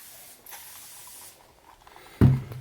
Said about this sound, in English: I'll spray a paper towel with just a tiny bit of moisture